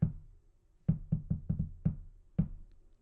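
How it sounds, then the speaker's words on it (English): A wooden desk creaks and knocks in a quiet room during a Magic the Gathering booster pack opening, a string of about eight short dull thuds in an uneven rhythm, close and fairly soft. "My desk was creaking."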